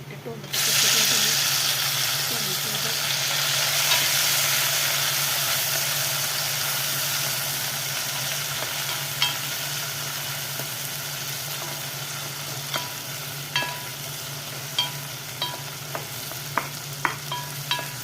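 A tomato drops into reddened hot oil in a pan, setting off a loud steady sizzle and hiss. Spoon or spatula scrapes and clinks break through at intervals as the frying carries on without talk.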